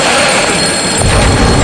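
A telephone rings in a house setting in a Hindi horror drama, a loud, harsh ringing tone filling the short moment with no voices over it.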